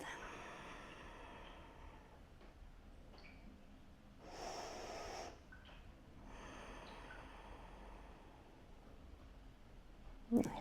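A person takes a single big deep breath during a seated shoulder mobility exercise, a faint airy inhale and exhale in a quiet room.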